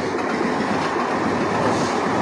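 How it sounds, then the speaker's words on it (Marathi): A Mumbai local train rumbles past below with a steady rolling roar and faint clattering wheels, continuous throughout, on an overcast afternoon. "आणि खालून ही अशी आपली लोकल ट्रेन जाते"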